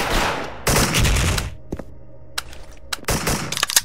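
Gunfire rips through a tournament match of a competitive video game in loud, dense bursts of rapid shots, broken by brief pauses and single cracks.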